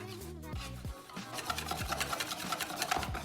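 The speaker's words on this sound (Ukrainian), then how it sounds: "Все ретельно розмішуємо вінчиком." A whisk scrapes rapidly and rhythmically against a bowl of egg and milk batter, a quick repeated swishing with soft music underneath.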